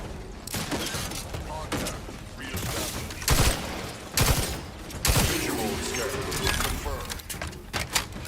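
Heavy gunfire from a powerful weapon in The Outer Worlds 2, sounding as loud bursts of repeated shots with several sharp peaks among game effects, under a speaking voice.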